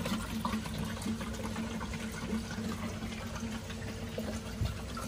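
Continuous bubbling and gurgling of water with a steady rushing hiss from the air conditioner system of a Nissan Serena as its gas is released, running without pause and without voices.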